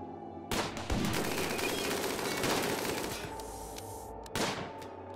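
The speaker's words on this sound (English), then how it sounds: "Every single one of those shots should land." Bursts of rapid gunfire from a RimWorld battle, a sustained rattling fusillade after a brief quiet start, with a second loud volley near the end.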